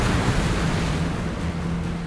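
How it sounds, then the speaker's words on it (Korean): Heavy sea spray and crashing waves surround a 47-ton fishing boat heading out to sea, heard as a dense, continuous rushing wash of water that stays loud throughout with no speech. "47톤에 육박하는 어선의 무게를 가늠케 하는 엄청난 물보라"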